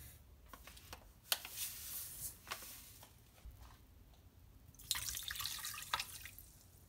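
Water poured from a cup into a pot holding two cups of sugar to start a syrup for Iranian bamieh, heard as close trickles and drips with a few sharp splashy bursts, no talking.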